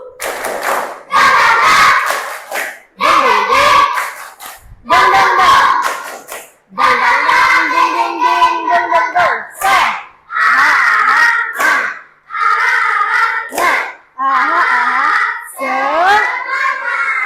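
Elementary school class groups chant and clap in spirited rhythmic bursts, loud and close, with short pauses between each group's turn of voices and hand claps.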